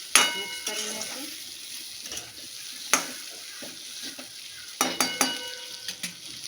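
A spoon stirs chopped kantola (spiny gourd) and onion in a frying pan, giving sharp scraping clatters at irregular intervals over a steady low sizzle.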